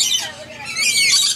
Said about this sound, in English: She's got a bird on her arm and on her head.